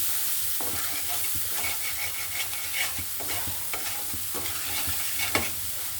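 Spice paste for a rohu fish curry sizzles steadily in a pan as a spoon stirs and scrapes it in repeated close strokes, the frying hiss constant underneath.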